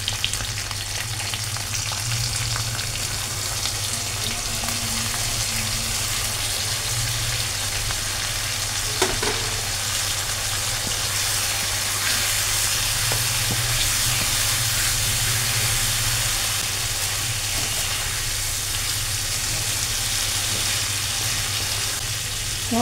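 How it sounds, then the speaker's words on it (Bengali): Masala paste for a spicy Rupchand fish curry fries in a hot pan, giving a loud, continuous, close sizzle that holds steady for over twenty seconds with occasional faint stirring. "এবার মশলাটা আমি এর মধ্যে ঢেলে দিচ্ছি।"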